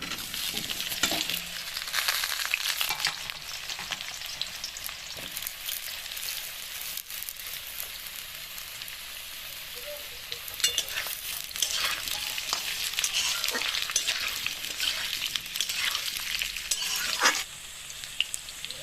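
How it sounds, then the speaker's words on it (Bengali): Cut potatoes fry in hot oil in a wok, a continuous close sizzle broken by occasional scrapes and clinks of a spatula stirring them. "এবার এই তেলেতেই আমি এই আলুগুলোকে কাটা আলুগুলোকে ভেজে নেবো"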